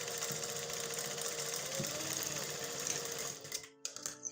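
A sewing machine runs a continuous buzzing stitch along the edge of a trouser, steady and close, then stops abruptly near the end, leaving a few faint clicks.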